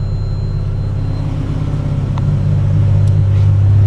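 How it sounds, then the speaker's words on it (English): A 1985 Mazda RX7 GSL-SE engine idles steadily at about 900 RPM after a cold start, a loud, continuous low rumble that holds even throughout with no revving. "about a 900 RPM idle, and when it's fully warm that'll get down to about 800"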